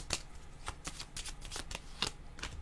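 Tarot cards are shuffled by hand for a reading, giving a series of crisp riffling bursts and soft slaps in an irregular rhythm, close and clear with no talk over them.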